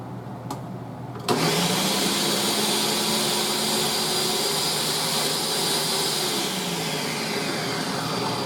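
A blender purees cranberries for cranberry ketchup, switching on abruptly after a brief click into a loud, steady motor whine that holds for several seconds, close and unbroken, with no voices.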